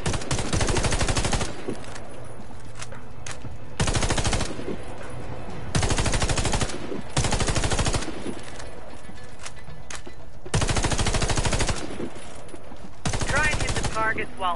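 Bursts of rapid automatic gunfire in a video game tutorial shooting range, several loud volleys of a few seconds each separated by short quiet gaps, with faint background sounds between them.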